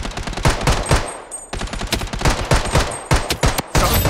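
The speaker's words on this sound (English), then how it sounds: "Taking fire!" Rapid automatic gunfire in a mobile shooter game, loud close bursts of shots in quick rhythmic volleys with brief pauses between them.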